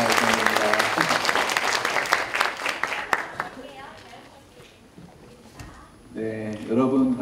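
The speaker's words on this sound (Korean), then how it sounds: "박수로 환영해 주시면" Audience applause and clapping fill a talk concert hall at a 2024 alumni festival, loud and sustained, then fade as the host begins speaking and a voice carries over the thinning claps.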